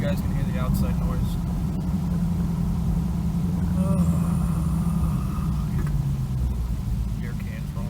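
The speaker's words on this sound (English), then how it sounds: "Put the window down a little bit just so you guys can hear the outside noise." Road noise through a partly lowered window of a moving 2009 Chrysler 300 with a 2.7L V6, a steady low rumble of tires and wind with faint engine drone, continuous and close.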